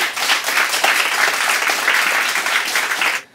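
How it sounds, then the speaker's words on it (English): An audience at a film festival awards honor applauds, a dense sustained round of clapping that stops abruptly at the end. "So let us give them another round of applause."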